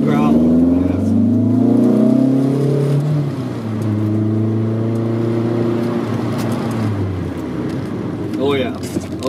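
Engine of a 1983 VW Rabbit GTI growling steadily as the car drives, a loud close-up drone that shifts pitch as it changes speed, with occasional brief talk over it.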